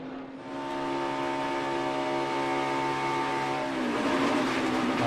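A NASCAR race car at Daytona International Speedway with a Goodyear left-rear tire failing, heard as a loud steady engine drone with harmonic whine that shifts into broad roaring noise as the tire comes apart, continuous and close.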